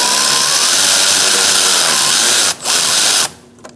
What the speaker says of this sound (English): Let's start by using an 8mm socket and removing the accordion side of the